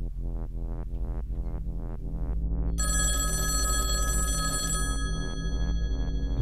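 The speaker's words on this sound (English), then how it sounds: "Well, are you going to answer the phone?" An old-style telephone bell rings in repeated bursts, loud and close, with a harsh metallic jangle that swells midway over a steady low throb, with no talk.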